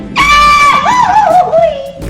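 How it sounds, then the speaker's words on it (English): A woman lets out a loud, high victory yell at a Hot Wheels diecast car racing event, one sustained rising-and-falling cry lasting about two seconds, close and alone. "you can tell just how proud of herself she was with that victory yell at the end"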